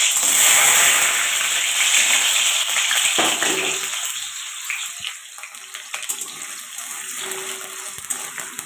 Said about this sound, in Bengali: তো দেখো তেল গরম হয়ে গেলে আমি এখানে আলুগুলো এখন দিয়ে দেবো।